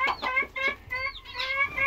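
A young chicken, kept apart in a pen on a smallholding, clucks and peeps in a run of short close calls, steady and fairly loud with no talk over it.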